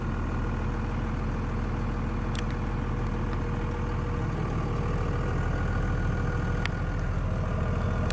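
A 2002 Dodge Ram 2500 SLT quad cab 4x4 with its Cummins diesel idles close by, a steady, loud low rumble with a constant clattering knock running unbroken throughout, with no talking.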